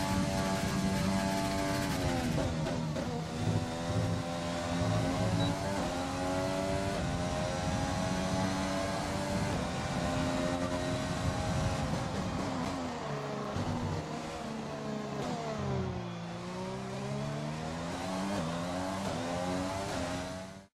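Formula 1 race cars in the F1 2020 video game at the Canada round, engines droning loud and continuous with shifting pitch as the cars cross the finish line, a steady dense roar throughout.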